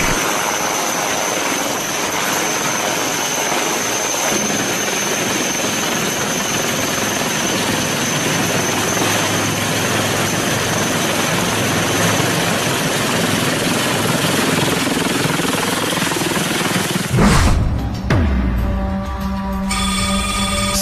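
Indian Army helicopter powered by a Shakti engine with a carbon fibre body, its loud, steady rotor and turbine roar filling the air continuously before cutting abruptly near the end.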